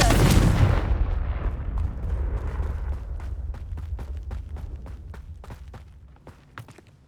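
A Confringo blasting spell from the Hogwarts Legacy video game goes off with one loud, booming explosion at the start, its rumble fading over several seconds while sharp crackling pops and debris clicks follow.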